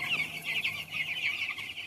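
Chickens cluck continuously on a small mini farm, a steady overlapping chatter of many birds at moderate distance with no talking.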